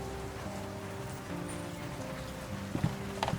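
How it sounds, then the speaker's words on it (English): Steady rain beating against an office window in World of Goo 2, a continuous wash of patter with a few sharper drops near the end and no voices. "The rain beats against the office window."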